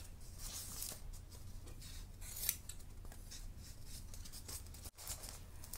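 Fine scissors carefully trim fabric for a no-sew kimekomi ornament, giving a faint, continuous rustle of small snips and brushing at close range, with no voices.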